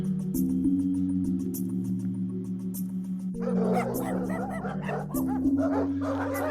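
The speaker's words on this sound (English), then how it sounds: "these dogs aren't trying to attack me" Several dogs bark and yip on a bramble-covered path near Izmir, Turkey. The barks come in quick bursts, first over a sustained droning tone, then louder and denser in the second half.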